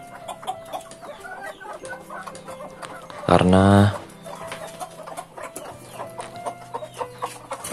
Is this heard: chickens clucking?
yes